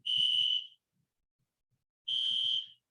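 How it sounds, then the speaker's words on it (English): An alarm goes off on the speaker's end during an online eating workshop, two loud, high, steady electronic beeps about two seconds apart with silence between, alone without talk. "Oh, this is an alarm on my end."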